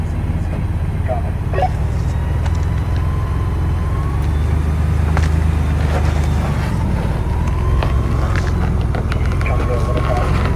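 An off-road vehicle's engine drones and revs as it crawls over rocks in Moab. The loud, steady rumble runs through the whole stretch, with people talking over it.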